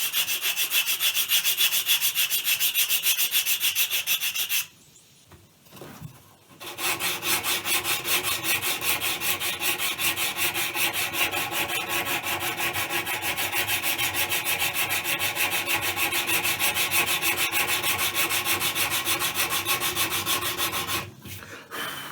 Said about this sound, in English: I sanded this all the way up to 320 grit